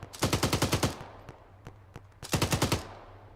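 Bursts of SAW light machine gun suppressive fire in a military shooter game, two fast rattling volleys of about eight rounds each with a few single shots between, loud and close.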